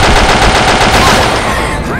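Rapid, loud video game gunfire rattles in a dense continuous burst, close and sustained like an automatic weapon firing throughout.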